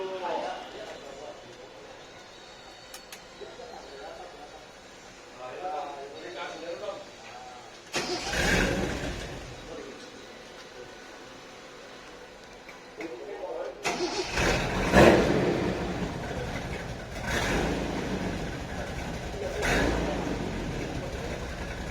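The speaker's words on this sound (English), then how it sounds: "let you listen to the exhaust" A 1973 Datsun 240Z engine starts and idles, its exhaust rumbling with a few revs, heard at moderate distance while people talk over it.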